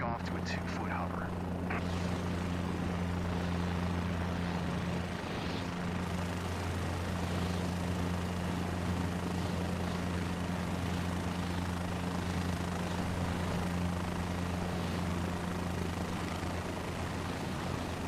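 A video game helicopter lifts off to a low hover, its engine and rotor holding a steady, loud drone throughout with little change in pitch.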